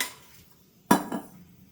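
A pan set down on a kitchen stove while gravy is being made for puri sagu, giving a single sharp metallic clank followed by a brief rattle, close and alone in a quiet room.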